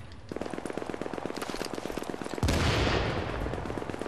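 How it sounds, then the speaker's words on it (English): Rapid automatic gunfire rattles in a steady stream during a Dark Zone fight in the video game The Division, then shifts into a louder, denser burst of shooting near the end. "Who's shooting at him?"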